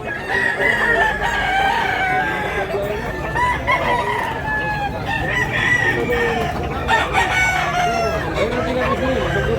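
Several roosters crow repeatedly at a Cebu poultry market, long wavering calls overlapping amid clucking hens and a busy, noisy crowd background with faint voices.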